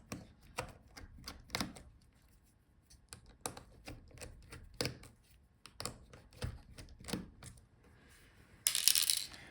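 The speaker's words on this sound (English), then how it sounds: "So let's unscrew our hinges for the screen." Small screws are backed out of the screen hinges of a Lenovo Flex 7 14IRU8 laptop, giving quiet, close clicks and ticks in irregular bursts, ending with a brief rustle.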